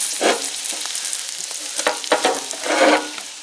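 Cut potatoes sizzle and crackle on an outdoor grill beside chanterelle mushrooms, a steady close frying hiss broken by sharper pops and bursts of spitting.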